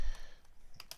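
A computer keyboard gives a few quick, faint key clicks, close up, with two sharper taps near the end and no voice.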